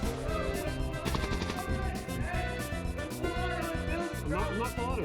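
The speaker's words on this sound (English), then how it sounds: "this is how you turn your magic wand into a magic machine pistol" Rapid-fire magic wand shots from the Vampire Survivors video game form a dense stream of quick popping bursts over layered game music and effects, loud and continuous.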